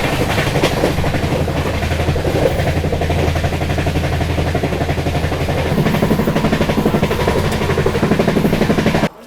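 A passenger train pulling into Jangaon railway station, running late, makes a loud, steady rumble with rapid clickety-clack of wheels over rail joints, close and continuous throughout.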